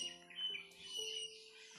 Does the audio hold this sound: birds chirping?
yes